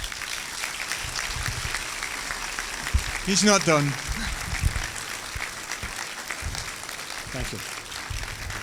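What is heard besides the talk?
audience applause for Professor Heino Falcke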